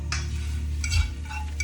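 A pan of scrambled eggs for homemade Chinese food is taken off the stove: brief scraping and utensil clatter against metal, with a soft sizzle in the background.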